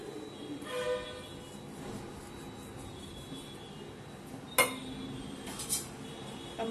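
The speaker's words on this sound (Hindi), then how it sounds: "अब मैं ढक देती हूँ" A lid is set onto a kadhai of stuffed bitter gourd, giving a sharp metallic clink followed by a second, lighter clatter against a low kitchen background hum.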